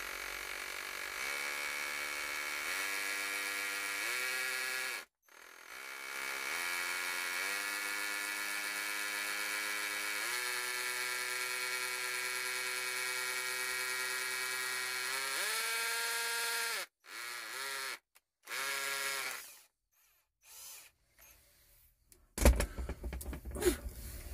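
A power drill bores holes for the cord of a hammock ridgeline phone holder, a steady loud whine running for long stretches, stopping briefly and restarting, then ending in short bursts and clicks.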